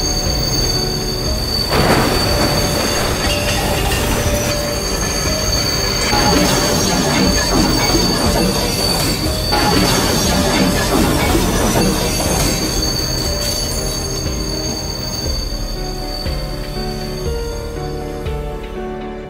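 A commuter train in a train simulator video game rolls past loudly, colliding with a minibus, with sustained high-pitched wheel squeal over rumbling, clattering rails, continuous throughout and fading slightly at the end.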